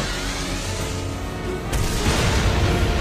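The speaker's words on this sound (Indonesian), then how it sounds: "diserang oleh pria lainnya dengan ledakan yang cukup besar" A deep, booming blast kicks in partway through, followed by a sustained roaring rumble that fills the space, loud and close.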